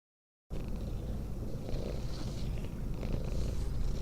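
A cat purrs steadily in a haunting memory-and-guilt video game, a close, continuous low rumble that runs alone without any talk throughout.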